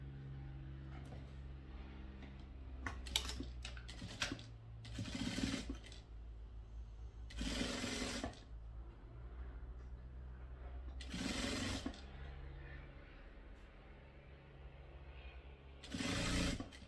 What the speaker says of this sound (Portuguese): E aí, eu vou passar um pé de máquina nisso daqui.